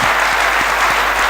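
Steady, dense applause from an audience at a Hindi humorous poetry gathering, loud and continuous clapping throughout with no voices above it.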